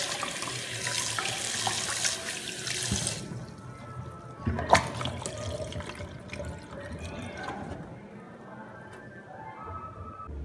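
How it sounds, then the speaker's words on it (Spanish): Tap water runs steadily into a sink as orange peels are washed and squeezed by hand, with splashing and wet handling sounds, loudest early and easing off later. "Mucha lavada, dale, y exprimirlo así para que bote todo ese amargo."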